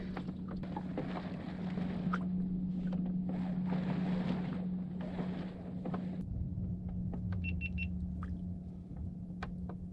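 A sailboat flying a Code Zero sail runs westbound down Hawk Channel off Tavernier Key, with steady water rush against the hull, wind buffeting the microphone and a low hum, then a quieter stretch with faint clicks.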